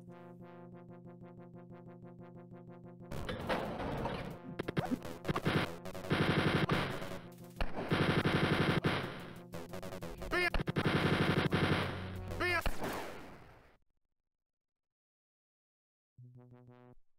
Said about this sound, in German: Man kann sie auch Chain Gun nennen, oder?